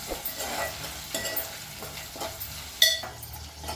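Onions and green peas frying in a pan for a carrot fry, with a soft sizzle under intermittent stirring scrapes and one sharper metallic clink near the end.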